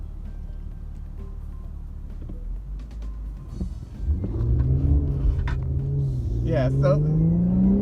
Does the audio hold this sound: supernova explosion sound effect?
no